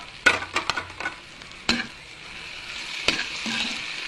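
Tofu frying in a pan while being stirred, a steady soft sizzle with several sharp spatula scrapes and clinks near the start and a few more later, close and moderately loud, no talking.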